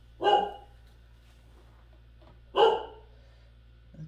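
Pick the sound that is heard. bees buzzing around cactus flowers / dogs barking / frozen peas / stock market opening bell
dogs barking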